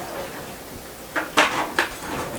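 A knife being fetched in a home kitchen while buttering a Dutch oven, heard as three short metallic clinks and rattles of cutlery or utensils in quick succession, fairly close and fairly quiet, with no speech.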